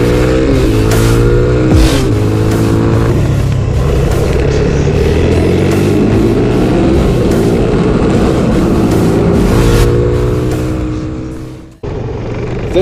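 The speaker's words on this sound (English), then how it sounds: "enjoy the sweet sounds of this little Suzuki" A Suzuki DRZ400SM motorcycle engine runs and revs loudly up and down in repeated pulls, close and continuous, before dropping off sharply near the end.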